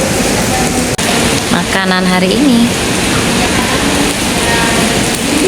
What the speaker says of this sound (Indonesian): Gila, hujannya gede banget